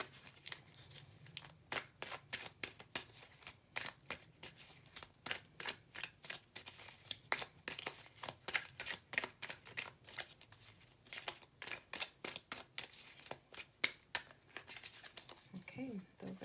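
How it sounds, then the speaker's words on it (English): Tarot cards being shuffled in quick repeated riffles and taps, close up, a steady crisp fluttering rhythm with soft pauses between bursts. "just be patient while I continue shuffling and just getting all of your cards ready"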